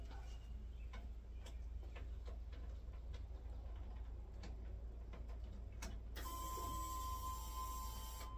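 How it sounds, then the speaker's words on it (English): A fuel pump primes inside an LS-swapped OBS truck, a steady high electric whine rising out of a low hum and holding for a couple of seconds after faint ticking. "Fuel pump's priming."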